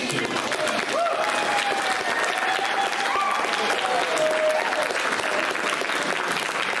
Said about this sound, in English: A round of applause to these three nuggets.